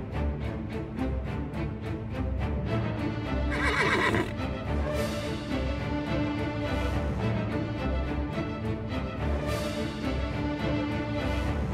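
A horse neighs loudly and whinnies while hooves clip-clop in a steady rhythm, close and continuous with no talk over it.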